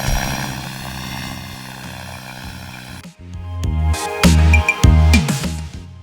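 Turboprop airliner in the SimplePlanes flight game comes in to land, a steady droning propeller engine hum for about three seconds, then louder, choppier bursts of engine and rumbling touchdown sounds.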